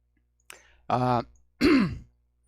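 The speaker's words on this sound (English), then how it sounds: "I have to clear my throat" A short breath followed by two distinct throat-clearing rasps, close and fairly loud, separated by brief silence.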